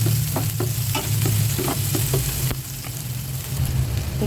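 Ginger, onion and garlic sautéing in a pan still oily from frying dried fish, a steady loud sizzle with repeated stirring scrapes throughout, no voices.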